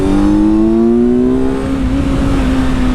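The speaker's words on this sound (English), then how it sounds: "if you can hear me over the induction bark" A 2025 Kawasaki Z900 motorcycle's engine revving hard with a loud, rising induction bark, the rough tone climbing steadily over a constant rush of wind and road noise, close and alone.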